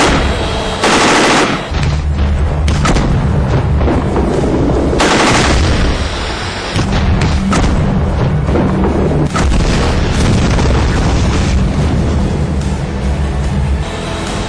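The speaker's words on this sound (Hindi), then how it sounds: "यह अपनी तरह की मशीन गन है" Machine gun fire from an army weapon, loud and dense, with heavy booms and bursts running almost continuously, mixed with explosive blasts.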